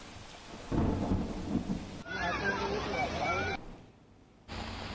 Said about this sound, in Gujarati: અમદાવાદ શહેરમાં એકાએક ધોધમાર વરસાદ શરૂ થયો છે અને તે હજી પણ યથાવત છે